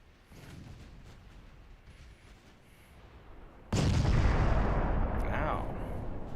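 Warship guns fire during a naval battle in Ultimate Admiral Dreadnoughts: a low, muffled rumble of distant salvos builds, then a loud, sudden booming blast breaks in and rolls on, with someone talking over it.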